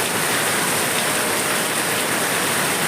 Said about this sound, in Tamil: அம்பிட்டு ஒரு மழை பெய்யுது.